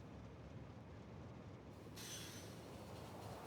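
Trains in the game Factorio run along their tracks with a steady mechanical rolling rumble, faint overall, and a brighter rail hiss rising partway through.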